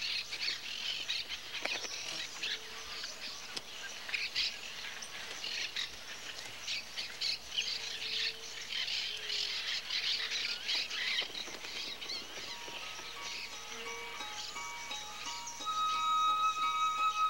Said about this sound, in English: As many as 20 pairs of monk parakeets can live in a jabiru nest.